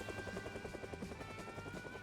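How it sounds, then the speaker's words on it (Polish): A helicopter in the video game Project Zomboid thrums steadily overhead with rapid rhythmic rotor chopping and a whining engine tone, continuous and fairly loud throughout. "Helikopter!"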